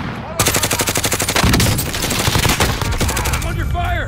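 Rapid automatic gunfire rattles loudly and continuously in a Call of Duty Warzone match, dense bursts with overlapping shots and game effects and no pause throughout.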